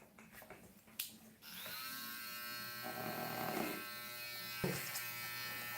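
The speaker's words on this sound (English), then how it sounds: "a little bit of clipper over comb to work into our previous section" Electric hair clipper running steadily close by during a men's textured haircut, worked over a comb into the neck area, a continuous buzz with brief snips and comb clicks at the start.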